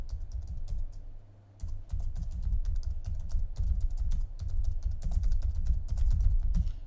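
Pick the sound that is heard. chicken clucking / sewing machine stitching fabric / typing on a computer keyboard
typing on a computer keyboard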